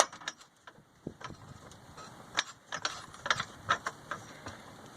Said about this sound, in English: Now I'm going to start lowering the jack a little bit.